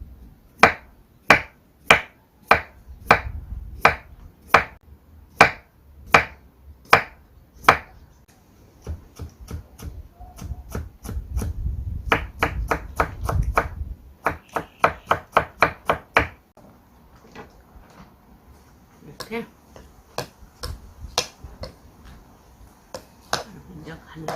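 Knife chopping apple on a cutting board while making perilla leaf kimchi: a run of sharp, evenly spaced cuts, then a faster burst of dense chopping, followed by scattered lighter taps, close and fairly loud.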